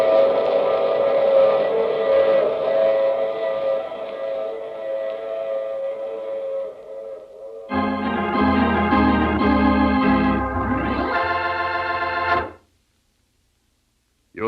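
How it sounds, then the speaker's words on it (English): A radio drama train effect: a sustained whistle-like tone fades, then loud chugging train noise with clattering rhythm and rising whistle blasts runs for several seconds before cutting to silence. "I take this same train every week at this same time."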